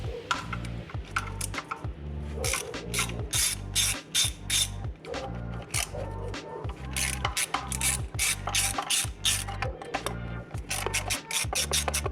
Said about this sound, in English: And start taking off those oil pan nuts.